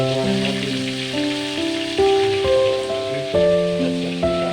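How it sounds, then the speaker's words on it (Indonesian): Mackerel fish frying in oil for a spicy Banjar-style dish, giving a steady low sizzle largely beneath prominent melodic background music throughout. "Kita goreng lagi yang lainnya."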